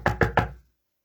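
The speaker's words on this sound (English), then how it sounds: "There was a knock at the door." Three quick, evenly spaced knocks on a door, close and fairly solid, followed by silence.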